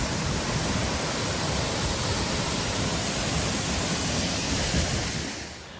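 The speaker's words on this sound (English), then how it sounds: "And just one last look at Fall Creek Falls." Fall Creek Falls waterfall roars as a steady, loud broadband rush of falling water on a hiking trail, continuous and close, tapering slightly at the end with no voices.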